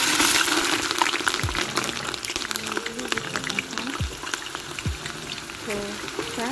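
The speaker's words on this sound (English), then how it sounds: "Now I'll be adding my onions." Onions fry in a pot for Nigerian jollof rice, giving a continuous close sizzle and hiss broken by occasional spoon scrapes and stirring.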